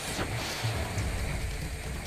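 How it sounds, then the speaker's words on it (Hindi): Heavy rain pours steadily during a monsoon downpour in hilly Uttarakhand, a dense, even hiss that stays constant and fairly faint with no voices over it. "भारी बारिश हो रही है"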